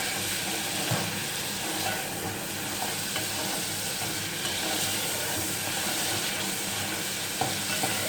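Onions sizzling in oil alongside chicken pieces for a zeera chicken curry, a steady, close frying hiss with small crackles and occasional stirring scrapes, continuous throughout with no talking.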